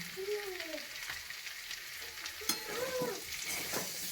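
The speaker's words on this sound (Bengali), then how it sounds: "ভালো করে কষানো হচ্ছে" Potatoes and peas with garam masala sautéing in a pan make a steady close sizzle, broken by scraping stirs and a short clink, while faint voices murmur in the background.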